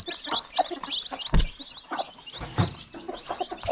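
Chicks peep busily in high, overlapping chirps while a hen gives low clucks now and then, close by on a farm.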